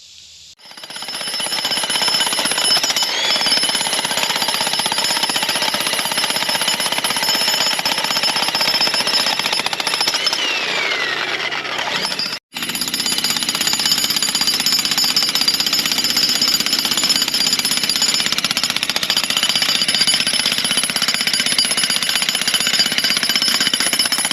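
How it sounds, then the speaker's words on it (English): A jackhammer breaking rock while digging a bunker hammers continuously at a steady rapid rate, loud and close, with one brief break midway before resuming; no talking. "Never used a jackhammer before, so this should be an exciting event."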